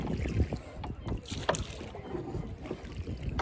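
A small boat is rowed on open water in a cool breeze, with soft splashes and knocks of the oars under steady wind buffeting close to the microphone.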